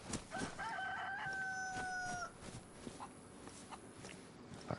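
A hen in the video game DayZ clucks and squawks in a short run of drawn-out calls, fairly clear over faint game ambience and scattered soft steps, then falls quiet.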